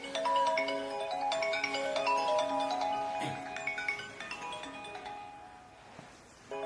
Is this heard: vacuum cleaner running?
no